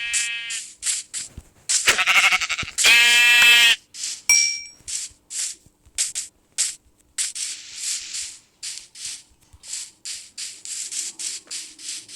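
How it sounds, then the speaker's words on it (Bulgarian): Sheep bleat repeatedly in the Minecraft video game, a string of short, loud nasal calls with brief gaps, one longer burst in the middle, with no talking. "Безопасно съм и ще продължа да търся овце."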